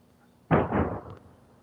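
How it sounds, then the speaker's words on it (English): A single firework bursts with a sharp, loud blast that rolls into a short crackling tail, then fades away. "They're going to hear the sounds of the fireworks"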